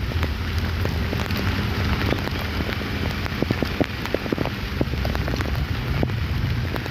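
Steady monsoon rain pours onto a street, a dense, even hiss with crisp drops pattering close by throughout, loud and unbroken, no voices.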